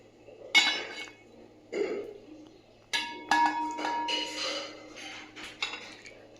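Chicken is layered into a biryani pot greased with ghee, with scattered metallic clinks and scrapes of utensils against the pot, close up and moderately quiet, with no talk.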